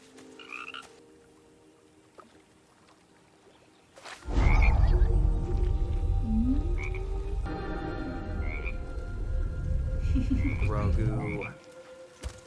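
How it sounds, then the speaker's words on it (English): Frogs croak repeatedly in a TV show scene, a chorus of loud, rhythmic ribbits recurring over a dense background wash resembling rain, with a quiet stretch at the start before the sound swells. "Oh, we're playing with all the frogs!"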